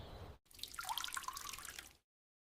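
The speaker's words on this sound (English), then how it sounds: "He repaired the leaking tap." Water from a leaking tap patters and drips into a sink in quick, close, bright drops for about a second and a half, then cuts off abruptly into silence.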